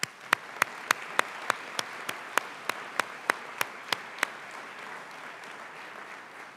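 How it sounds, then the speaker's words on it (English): One person claps slowly and steadily at a pharmacy school white coat ceremony, about a dozen distinct claps at an even pace that stop partway through, heard over a faint hall background. "A well-deserved round of applause is really appropriate for everyone."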